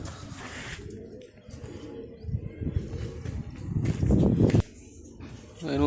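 Pigeons at a rooftop loft cooing close by, low and intermittent, mixed with shuffling, handling noises and a voice speaking nearby.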